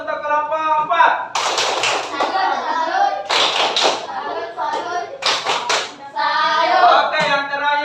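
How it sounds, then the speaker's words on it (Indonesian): Classroom students doing a rhythmic 'tepuk salut' clap together, bursts of group clapping and chanting voices in a lively patterned beat, loud and close, with children's voices mixed in throughout. "Tepuk salut untuk kelompok 4."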